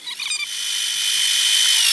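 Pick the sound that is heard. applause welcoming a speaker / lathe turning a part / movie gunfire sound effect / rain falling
lathe turning a part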